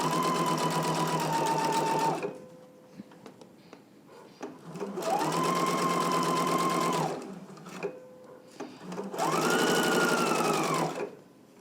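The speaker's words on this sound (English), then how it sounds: "Let's go ahead and do all the pressing and stitch this carrier in place together." A sewing machine stitches a belt loop carrier in three steady, buzzing runs separated by short quiet pauses, close up and loud.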